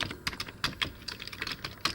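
Keys are pressed on a Commodore 64 keyboard with a faulty, unresponsive keyboard circuit: a quiet, close, irregular run of sharp plastic clicks and taps, some in quick pairs, with no talking.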